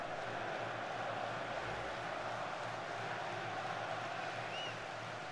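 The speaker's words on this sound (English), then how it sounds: "Crowd here's going wild." A video game football stadium crowd at a Houston Dynamo versus Seattle Sounders match, cheering as a steady wash of distant noise that stays even and fairly faint throughout.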